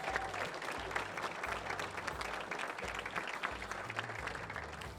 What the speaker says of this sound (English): she deserves at least one more round of applause.